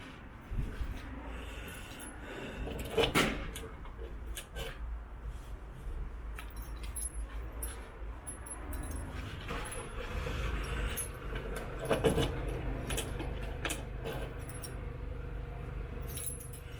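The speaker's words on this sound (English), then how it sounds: "I think I've been through all the keys twice now already." A bunch of keys jangling and clinking near a lock as they are tried one after another, close metallic rattles with a few sharper clacks over a low background rumble.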